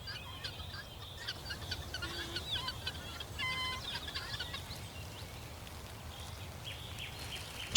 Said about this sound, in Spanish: una bandada de gallinas de Guinea camina en silencio, emitiendo de vez en cuando chillidos cortos, secos, como metal golpeando piedra